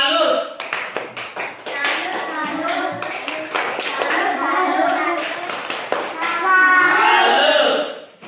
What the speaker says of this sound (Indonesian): Mari kita tepuk tangan untuk kelompok 1.